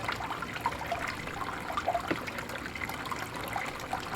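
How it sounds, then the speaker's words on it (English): Steady trickling water runs through a gold sluice used to recover gold and silver from fine IC chip material, a continuous close, moderate wash with small splashy ticks throughout and no talk. "if I've got too fast a water flow that I will blow gold right out of the bottom of the sluice"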